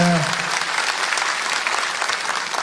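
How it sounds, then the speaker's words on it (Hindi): A large crowd at a political event applauds to welcome the Chief Minister, a dense, continuous wash of clapping that stays loud and steady throughout, after a brief voice at the start. "एक बार सब लोग मुख्यमंत्री जी के लिए ताली बजा के स्वागत करिए।"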